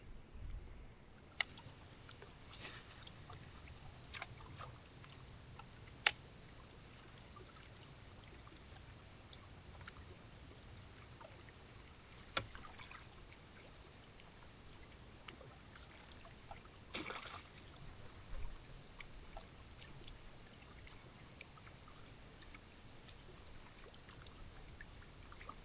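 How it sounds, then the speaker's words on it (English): Night insects chirp steadily beside Smith Mountain Lake during bass fishing, a constant high, faint drone that runs the whole time with a few soft knocks and splashes. "The bugs are something else right now."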